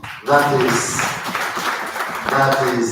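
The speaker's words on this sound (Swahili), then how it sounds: "Simama tukupigie makofi." An audience at an annual integrity conference applauds a priest, chairman of the priests of the Archdiocese of Nairobi, with a steady wash of clapping that runs under a man's nearby speech.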